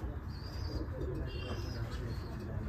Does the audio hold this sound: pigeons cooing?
yes